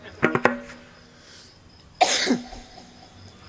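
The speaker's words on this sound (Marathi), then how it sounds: "अतिप्रमाणात खोकला असला ना तो मला झाला आहे" A man suffering from bronchitis coughs in two clusters, a pair of sharp, close coughs followed by a longer, louder rasping hack, with quiet gaps between.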